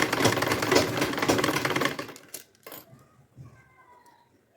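A sewing machine stitching a seam on a princess-cut blouse, running in a fast, steady mechanical chatter for about two seconds before stopping, followed by a few quieter clicks and handling sounds.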